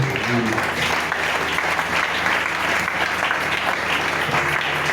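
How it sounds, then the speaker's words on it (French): A church congregation applauds loudly for the Lord, a thick steady wash of clapping that holds at full strength for several seconds, with faint voices mixed underneath. "applaudit très fort pour le Seigneur"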